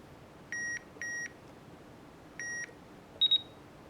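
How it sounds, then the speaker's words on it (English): Several short electronic beeps from a Midland 74-200 weather radio's invalid-button alert, three even tones followed by a quick higher double beep, over quiet background hiss. "I don't know why they made that invalid button beep so loud."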